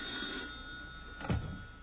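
A telephone bell rings in an old comedy broadcast, a faint, thin ring with a louder burst near the end, heard through narrow, low-fidelity sound.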